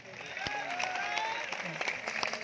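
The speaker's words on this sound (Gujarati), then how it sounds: "તાળીઓ બંધ ના થવી જોઈએ ભાઈ" Crowd applause at a political rally and mahapanchayat, steady moderate clapping with a few sharp individual claps, a voice speaking over it.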